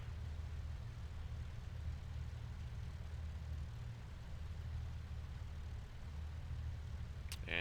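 Twin engines of a de Havilland Mosquito in a flight simulator, a steady low droning hum that runs evenly throughout, ending with a faint click.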